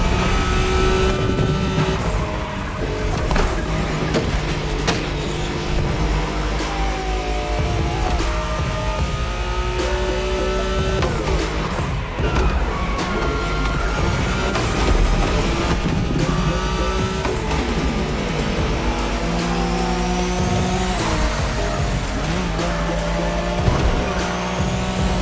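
Nissan Skyline racing in The Crew Motorfest, its engine droning loud and steady under game music, with shifting pitch sweeps as it accelerates through gears and a brief squeal near the end.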